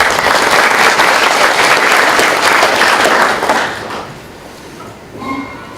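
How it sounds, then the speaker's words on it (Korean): An audience at a tap water symposium applauds loudly to welcome a speaker, a dense sustained clapping that fades out after about four seconds, followed by a brief quiet thump. "큰 박수로 환영해 주시기 바랍니다."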